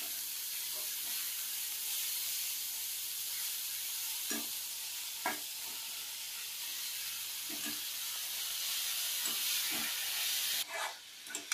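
Chopped dill greens sautéed in a hot pan for shepu bhaji, giving a continuous soft hiss with regular spatula scrapes and taps against the pan, close and even.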